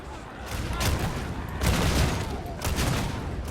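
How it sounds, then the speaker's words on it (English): Rapid bursts of video game gunfire aimed at the player, three clustered volleys of loud, crackling shots with rumbling low end, close and dense, with no talking between them. "They're shooting at us."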